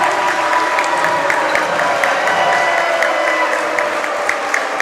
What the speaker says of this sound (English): Big crowd here, great atmosphere.